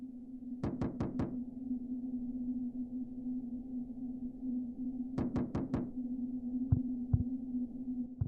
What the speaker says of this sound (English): as we move closer to it, the knocking gets more aggressive, irritated you could say